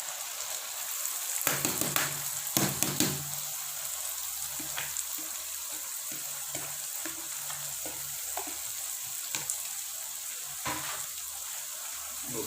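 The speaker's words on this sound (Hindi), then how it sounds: "तो अब इसमें हम गोभी है ना वो शामिल कर देते हैं।" Cabbage tipped into a chicken and potato curry frying in a pan, with steady loud sizzling throughout and several sharp bursts and stirring scrapes near the start, continuing without talk.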